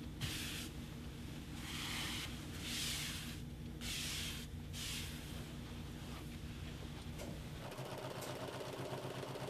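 A sewing machine stitching a quilt with clear monofilament thread runs steadily and continuously, its mechanical whir pulsing slightly over a constant background hum.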